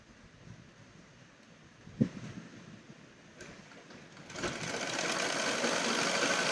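A sewing machine runs steadily while stitching cross tucks into fabric during a tailoring class, quiet at first with a brief knock, then louder and continuous toward the end.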